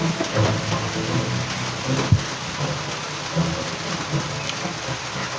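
Steady rainfall at home, a dense, even hiss of drops hitting surfaces with a low rumble underneath and one brief sharper knock, continuous throughout with no voices.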